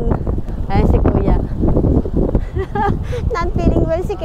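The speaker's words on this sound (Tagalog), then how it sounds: "Grabe, ang lakas ng hangin." Gusty, strong wind roars against the microphone outdoors in Japan, a steady loud rumble under continuous talking.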